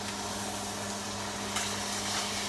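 A steak sizzling steadily in a skillet on high heat, with a soft scrape as it is turned; the hiss is continuous and close, with no talking.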